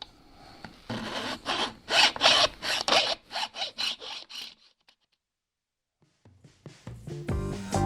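A file rasps back and forth across guitar fret ends against a wooden fretboard in a quick run of close, rhythmic strokes, then pauses briefly before scraping resumes.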